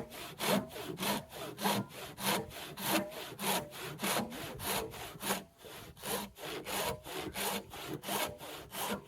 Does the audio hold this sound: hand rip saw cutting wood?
yes